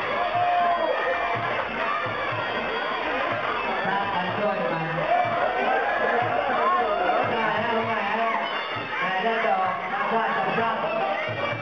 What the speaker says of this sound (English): they draw heavy hoots and hollers from the ladies in the crowd